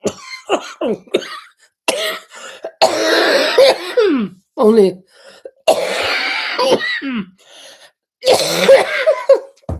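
Several bursts of harsh coughing and throat-clearing, loud and close, broken by short gasps and a few vocal sounds between fits.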